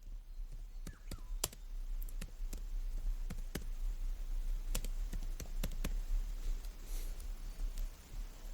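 Typing on a computer keyboard, scattered close key clicks in irregular bursts over a low steady background hum, with no talking.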